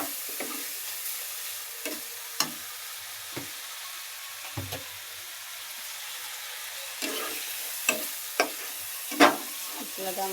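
Spice masala frying in a pan for a farm chicken curry gives a low steady sizzle, broken by repeated short scrapes and knocks of a spoon stirring, heard close with no talk.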